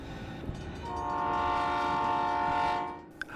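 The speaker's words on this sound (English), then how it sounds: "I started to feel the rumble in the ground of a train, and then the blasting of its horn." A train rumbles by and sounds a long, steady horn blast over the low rolling noise, close and loud, then fades with a faint clank at the end.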